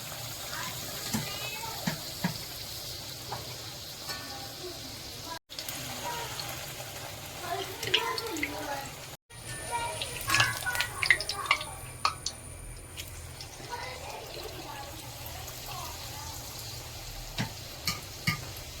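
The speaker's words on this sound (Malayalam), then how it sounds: "തിളച്ച എണ്ണയിലേക്ക് പൂരികൾ ഓരോന്നായി" Tomato puris drop into boiling oil one by one, giving a quiet, continuous sizzle with scattered pops and small crackles, plus a few clicks and handling noises nearby.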